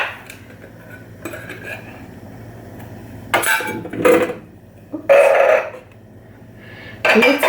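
Canned potatoes are tipped from tins into an Ultenic dual air fryer basket, making bursts of metallic clattering and clinks. The bursts come in separate loud clusters between quieter gaps, close to the mic, with no talk.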